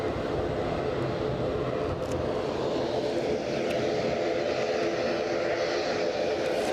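Steady broadband roar of an ATR turboprop airliner's engines, continuous and fairly loud throughout at a transatlantic planespotting spot, with no talk over it.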